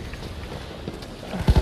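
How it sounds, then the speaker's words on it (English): A horse in Battlefield 1 gallops on the Passchendaele battlefield. The clip holds a low rumble of battle noise, and a few quick, heavy hoofbeats arrive close in at the very end. "How am I on a horse at E all of a sudden?"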